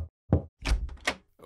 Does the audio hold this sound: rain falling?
no